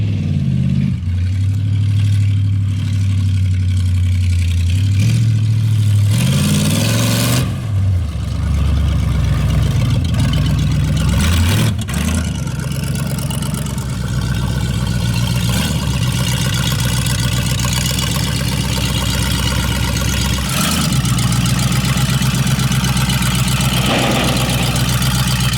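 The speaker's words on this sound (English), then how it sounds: "Just need to figure out how to make it idle down so I can stop." A Chevrolet El Camino V8 motor runs loud and close at a high, unsettled idle that will not drop down, steady rumble with brief revving swells throughout.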